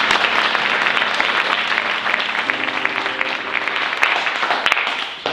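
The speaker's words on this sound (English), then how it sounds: "Please give him a nice round of applause." Audience applause, sustained dense clapping at moderate loudness with a few louder individual claps, continuing steadily and tapering toward the end.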